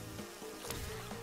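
Game bees buzz in Crash Bandicoot N. Sane Trilogy, a steady droning hum under music and effects, with a couple of sharper swells.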